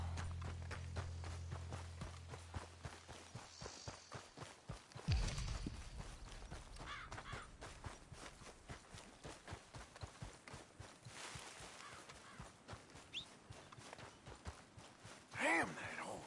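Horse hooves in the video game Red Dead Redemption II, a steady rhythmic clopping of a moving horse with a few louder thumps and bursts mixed in.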